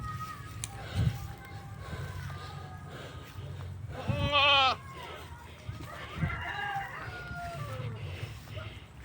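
Goats bleat on a farm behind a house, a loud wavering cry standing out midway over steady outdoor background noise, with fainter animal calls and rooster-like sounds scattered around it.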